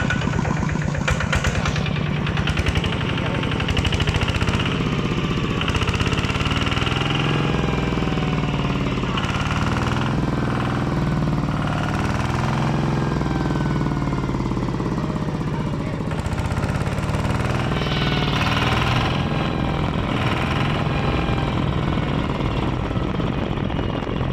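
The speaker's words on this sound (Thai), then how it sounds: "ฟังเสียงเครื่องยนต์ครับ" A new Kubota RT140 Plus single-cylinder diesel engine runs close by with a loud, rapid, knocking chug, steady throughout with slight swells in pace.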